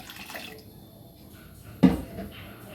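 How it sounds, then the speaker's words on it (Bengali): Water poured from a vessel into a pot of red lentils and water spinach, a short splashing burst after a quiet kitchen background with faint dripping. "দিয়ে দেব জল"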